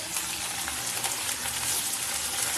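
Small river boal fish frying in hot oil, spattering and crackling steadily with sharp pops throughout, close and fairly loud with no voices.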